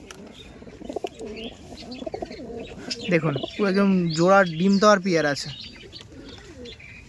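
Madras pigeons coo close by, a few soft calls followed by a louder run of rolling, throaty coos, under someone talking.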